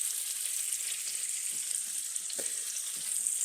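Cod fillets coated in pork rind crumb fry in bacon fat, giving a steady, soft sizzle throughout with a few faint pops, no voices.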